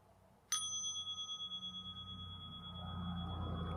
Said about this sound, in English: then I'll ring the bell and we can start